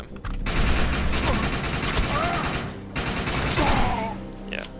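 Rapid bursts of automatic gunfire from the video game Defiance 2050 crackle loud and close, nearly continuous with brief gaps, while someone talks over the shooting.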